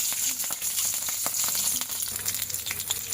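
Green chilies and a bay leaf sizzle in hot oil in a pan while cooking chana masala, a dense, close crackling and spitting that holds steady throughout with no talking.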